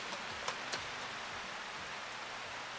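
Steady rain falls as a soft, even hiss, with a couple of faint taps near the start and no voices.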